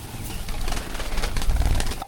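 Quail, including white ones, on a small farm of about 200 birds, making a continuous close, busy chatter of soft calls and rustling that rises slightly toward the end.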